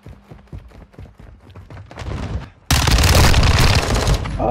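Rapid bursts of suppressed gunfire in a Call of Duty Modern Warfare II hardcore free-for-all match, starting as quieter clustered shots and then swelling into a sustained, loud barrage of dense firing.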